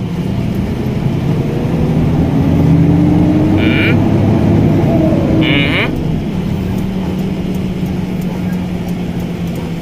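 A Hino 700 truck with air suspension and a low-power fault drives along a road. A steady, loud engine drone and road rumble run throughout, with the pitch rising and falling, while someone talks over it.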